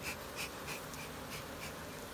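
Honeybees buzzing around hive boxes while the boxes are tapped to drive the bees out, a soft continuous hum with a few pulsing swells, quiet and steady with no voices.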